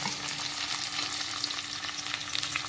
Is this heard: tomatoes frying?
yes